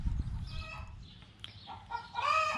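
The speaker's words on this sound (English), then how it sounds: "one of the chickens has laid an egg, and that's the egg call" A backyard hen gives her egg-laying call, a series of loud, rising clucks and squawks repeated in bursts, with other farm chickens clucking and calling nearby.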